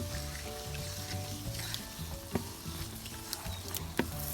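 Tomato paste with salt and olive oil is stirred over a wood fire, giving a soft, continuous sizzle with occasional scraping clicks of the spoon, quiet and close.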